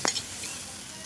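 Aloo paratha fries in a generous amount of oil, giving a soft, steady sizzle close by, with a brief clink of a utensil at the start.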